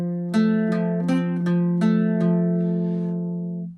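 Irish bouzouki playing the third phrase of The Glasgow Reel, six crisp picked strums in a steady reel rhythm, bright and close, with the final chord ringing out and fading.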